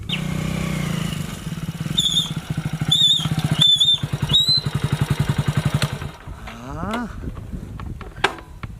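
A motorcycle engine idles close by with a rapid, steady putter that later slows into a rougher chugging, while faint high chirps and whistles sound in the background.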